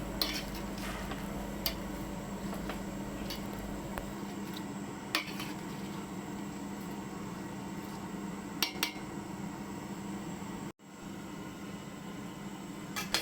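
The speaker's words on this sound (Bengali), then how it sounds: "এটা উলটপালট করে নুন হলদি এগুলো সব মিক্স করে নিচ্ছি" Metal spoon scraping and clinking against a pan while chicken mince and cabbage are turned with salt and turmeric, irregular close knocks and scrapes over a soft background sizzle, with one abrupt drop-out near the end.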